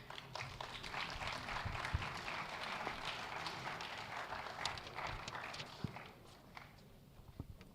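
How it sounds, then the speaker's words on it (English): An audience at a conclave applauds speakers and moderators, with moderately distant, steady scattered clapping that thins out toward the end and no voices. "Please raise a warm applause"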